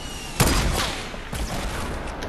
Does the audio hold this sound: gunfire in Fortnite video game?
yes